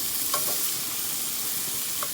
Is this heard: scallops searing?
yes